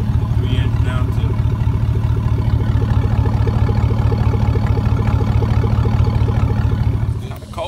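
A GMC Yukon V8 idles with its muffler cut off, running stock cats into a 3-inch turn-down pipe, giving a loud, steady, close rumbling burble that continues throughout with a slight drop right at the end.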